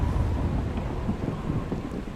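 Rumbling thunder with rain from a stormy weather scene in the survival game Prepper, a steady low roar with soft crackle throughout, no talking.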